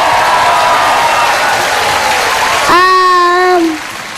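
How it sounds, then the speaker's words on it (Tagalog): Studio audience applause and cheering fill a Philippine TV talk show set, steady and loud throughout, with a strong tonal whistle or horn blast breaking in near the end before the clapping eases. "Palakpakan na may kasama."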